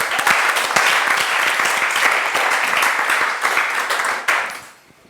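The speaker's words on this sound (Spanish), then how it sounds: "Un aplauso para Cristo y para la maestra." A church Bible-class congregation applauds Christ and their teacher, with steady, dense clapping from many hands filling the room and then tapering off toward the end.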